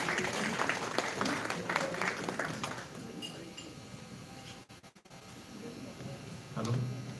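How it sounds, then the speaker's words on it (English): An audience at a community gathering claps loudly for a guest of honor, with dense applause tapering off after a few seconds into quieter room noise and a brief sound near the end. "let's give him a big round of applause"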